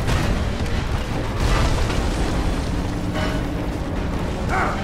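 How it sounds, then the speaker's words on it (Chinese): A rumbling explosion booms in the Lara Croft and the Temple of Osiris video game, loud and sustained with dense low-end roar across the whole stretch and a brief brighter burst near the end. "快点，推，让它爆炸！"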